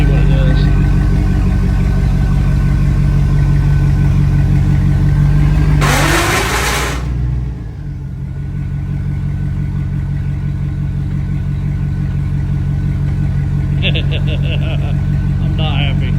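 A 2003 Chevrolet Tahoe with a suspected bad transfer case, its engine running steadily and loud throughout, with a sharp broadband burst around the middle and brief clatter near the end, while people talk over it.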